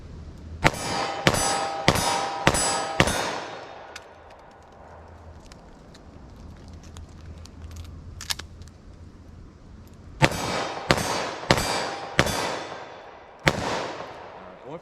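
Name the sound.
357 Magnum snub-nose revolver shots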